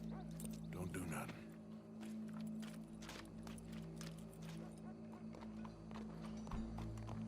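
In Red Dead Redemption 2, a horse's hooves clip-clop softly and steadily in the background beneath talk and ambient game sound.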